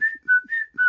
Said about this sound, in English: I was always whistling